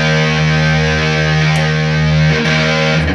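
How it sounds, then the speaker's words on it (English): Music Man Axis electric guitar played through heavy distortion, a thick sustained chord ringing loud and steady with a couple of brief re-strums near the end. "Sometimes it's hard to tell with all this distortion on it"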